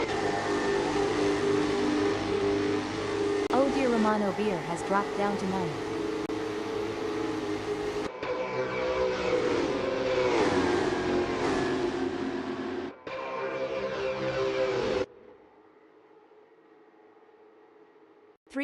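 Race car engines rev and drone continuously in the SimSpeed racing game, with pitch rising and falling as several cars run close together, loud and near. A commentator talks over the engines before the sound cuts to a quieter hum.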